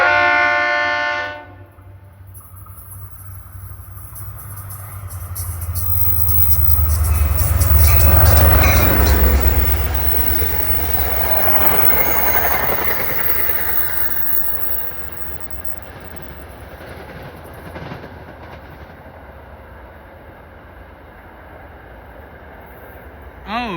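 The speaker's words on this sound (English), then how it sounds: "Oh boy, does that RS3L sound great." A train at Clifton is led by an RS3L locomotive. A brief horn blast opens, then a deep rumble swells as the train rolls past and slowly fades into steady clatter.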